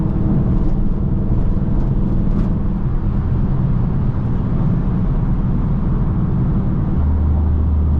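A Dodge Charger Pursuit with a Hemi V8 running on four cylinders gives a loud, steady, low rumbling drone from inside the car, shifting to a smoother low tone near the end.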